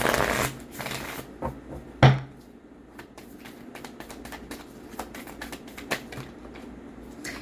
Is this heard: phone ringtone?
no